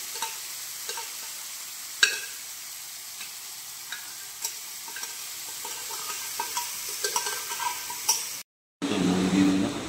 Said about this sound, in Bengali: এবার দেয়া হচ্ছে সিদ্ধ করে রাখা ছোলার ডালটা।